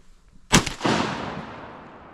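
A single sharp shotgun blast goes off outdoors while duck hunting, then a long echoing decay rolls away across the open marsh.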